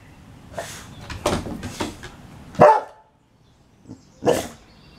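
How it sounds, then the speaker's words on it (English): A Boxer dog barks indoors in a scattered series of sharp, loud barks, with a few quieter yelps in between and short pauses, the loudest bark coming near the middle. "Do you really want to be seen as a barking dog?"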